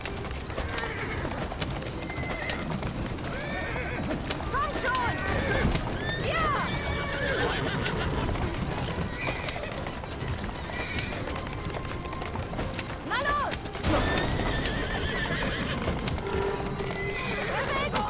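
In Assassin's Creed Syndicate, a horse whinnies several times over steady clip-clopping hooves, with pigeons cooing in the background while someone talks throughout.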